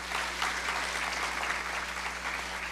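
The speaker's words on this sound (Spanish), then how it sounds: "Demos un aplauso al señor Eric Lobo" Steady applause from a conference audience welcoming a panelist at a Mexican panel on civil service talent management, dense continuous clapping with a constant low hum underneath.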